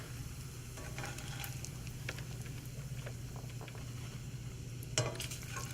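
Thick bacon frying in a pan gives a steady, moderately quiet crackling sizzle with scattered pops and a sharper burst near the end, over a low hum.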